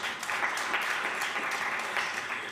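Applause rises from the audience at a bank's annual report launch, a sustained even wash of many hands clapping at moderate volume, with no talking.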